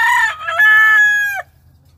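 A Lacy Roundhead brood cock, pea-combed with pearl legs, crows once loud and close, a full cock-a-doodle-doo that holds steady and then cuts off sharply, followed by quiet.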